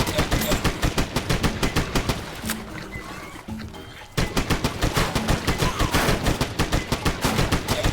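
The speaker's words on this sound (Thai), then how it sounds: "เดี๋ยวเราลองใช้ M16 ดูไหมมันยิงระยะไกลได้หรือเปล่า ก็ยิงได้นะ" M16 rifle firing in the Swamp Attack video game: rapid, loud automatic bursts of evenly spaced shots, breaking off for about a second and a half before the steady rattle resumes.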